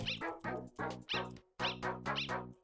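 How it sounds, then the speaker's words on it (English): Dog song from the Undertale fan game Underswap: a cheerful chiptune melody of short, bouncy barking-like notes in a steady rhythm, clear and moderately quiet, with no talking. "that was the dog song for just a second there"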